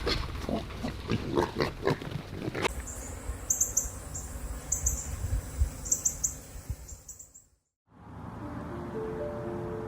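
Wild pigs in the US countryside grunt and snort in a quick cluster of rough, low calls near the microphone. Afterward, outdoor insects buzz and chirp, then a brief dead silence gives way to a steady droning hum.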